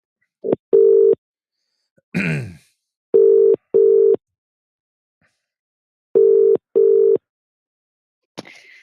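A telephone line tone while phoning a caller back: paired short ringback beeps repeat in a regular rhythm, loud and clear, with a brief rustle between them.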